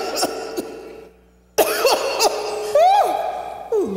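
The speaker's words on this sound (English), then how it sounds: "Lord have mercy, this cough," A woman's harsh, repeated coughing in a comedic skit, several sharp bursts close to the mic, with throaty vocal sounds between and after them.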